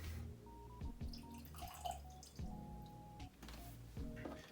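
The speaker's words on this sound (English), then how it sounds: "I'm gonna need to add some water to these." Small splashes and drips of water being added to whisky in a glass, faint and close with a few soft bursts.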